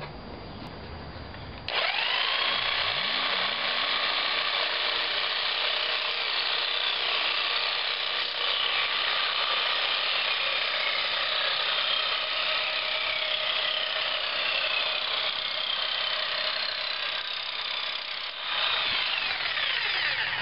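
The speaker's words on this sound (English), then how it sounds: "take this edge off and rough cut it with a jigsaw as close to as possible" A jigsaw rough-cutting the edge of a wooden ukulele radius arc jig, starting after a brief pause and running as a loud, steady buzzing saw whine for the rest of the clip.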